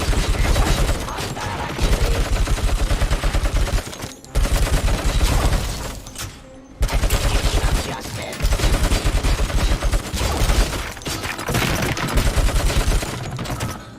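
Sustained heavy machine gun fire in the video game RoboCop: Rogue City, loud and dense bursts running almost continuously with a few brief pauses between volleys.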